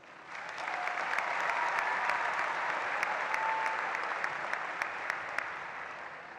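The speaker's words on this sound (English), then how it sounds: "Please give a round of applause for all of tonight's graduates." A high school graduation audience in a large hall breaks into sustained, dense applause that swells quickly and holds steady, with a few sharper claps and faint cheers, and no talking over it.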